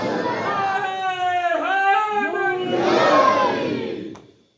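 A large crowd at a Shab-e-Miraj religious gathering roars back loud, sustained responses to the Nara-e-Takbeer and Nara-e-Risalat chants, the voices swelling together in two long waves before cutting off.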